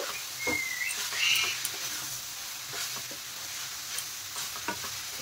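Vegetables seasoned with black pepper and soy sauce are stirred in a hot pan for chilli momos, with a steady sizzle under a few soft scraping strokes of a utensil, close and fairly quiet, no voices.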